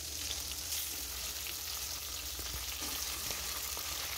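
Spice-coated chicken frying in a kadai, a steady close hiss and sizzle running evenly throughout with faint stirring knocks, no voices.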